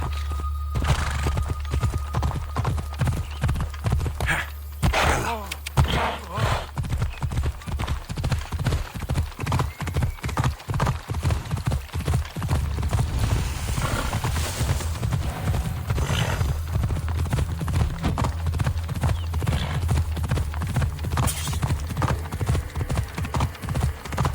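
Horse hooves gallop steadily in Assassin's Creed Odyssey, a dense, continuous clip-clop rhythm that is close and loud throughout, with an occasional whinny over a low rumbling backdrop.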